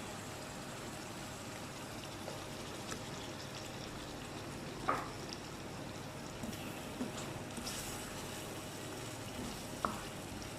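Chicken pieces frying in a pan with kalonji (nigella seed) masala, a steady soft sizzle running throughout with a few brief clinks or stirring taps, no talking.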